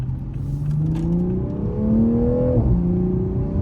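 A 2022 Toyota GR Supra 3.0 with the B58 engine and ZF eight-speed transmission accelerates, its engine note climbing steadily, dropping at a gearshift and climbing again, loud and close from inside the car.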